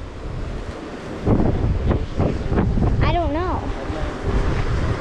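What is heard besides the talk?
Atlantic Ocean waves crashing on shore at Portland Head Lighthouse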